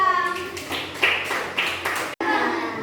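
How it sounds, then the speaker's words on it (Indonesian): A brief burst of clapping from a small group, a few seconds of uneven claps over a background voice speaking Indonesian. "Beri tepuk tangan untuk kelompok 2."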